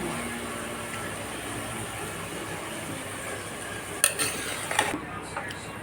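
Boiled ingredients being stirred and mixed into wheat rava bath in a pot, a soft steady scraping with a few sharper clinks of the spoon near the end.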